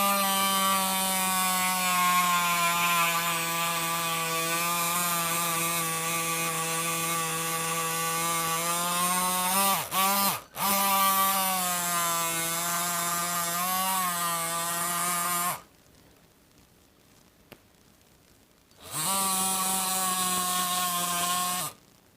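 A reciprocating saw making a vertical cut, a loud buzzing rasp that runs steadily with a brief stop midway, then falls silent for a few seconds before resuming.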